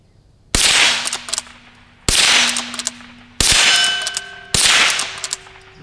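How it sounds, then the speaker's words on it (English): Four loud .22 rifle shots from a Rossi Rio Bravo polymer lever-action, each followed by a ringing clang as the round strikes a steel target at about 35 yards, spaced roughly a second apart. "So let's shoot a little bit more."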